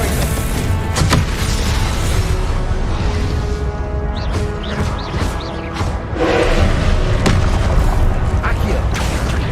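A Confringo blasting spell explodes in Hogwarts Legacy, a loud booming burst amid continuous dense game noise and effects, with a spoken voice present.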